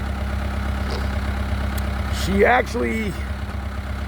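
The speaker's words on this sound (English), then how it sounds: "She purrs like a kitten. Got a Perkins engine in her." A Case 480E backhoe with a Perkins engine idles steadily on a ranch, a low even rumble throughout while someone talks over it close by.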